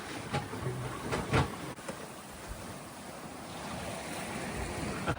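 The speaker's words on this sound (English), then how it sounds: "It is currently blowing about 20 knots" Wind at about 20 knots blows at sea aboard a sailboat, a steady broadband rush with gusty swells and splashing water, moderately loud throughout with no voices.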